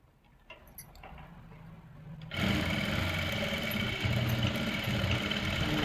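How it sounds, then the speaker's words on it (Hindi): A sewing machine stitches a dhoti salwar, starting with faint clicks and handling noise before breaking into a loud, steady, continuous whir that runs close up to the end. "तो ये मैंने सिलाई लगा ली है"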